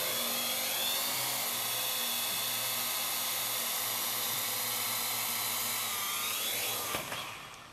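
Steady high-pitched whine and buzz of AR Drone quadcopter rotors, close and loud and nearly unchanging, dropping away suddenly near the end as the craft sets down.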